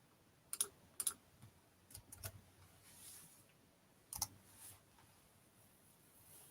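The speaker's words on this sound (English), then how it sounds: "I'm going to type in the link where you can find that poem and more" Scattered keystrokes on a computer keyboard, a few sharp clicks in short clusters separated by pauses, fairly quiet and close, with no voice.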